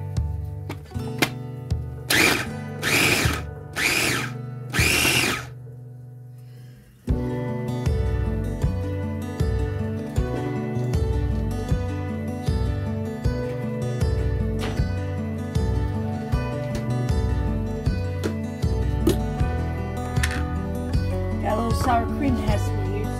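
A kitchen blender whizzes chunks of roast pork, first in several short loud pulses, then a pause, then one long continuous grinding run, close up with no talk.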